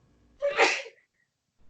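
One loud sneeze, close to the mic, erupts with a quick intake and a sharp burst, then falls to near silence before faint room noise returns, during a tabletop role-playing session.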